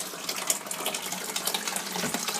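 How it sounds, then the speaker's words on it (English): Chilled bitter wort for an English stout is poured into a fermentation bin, a steady splashing gush of liquid that runs continuously and close, with no voices. "I'm going to pour it into the primary fermentation bin where it will spend the next week with some yeast"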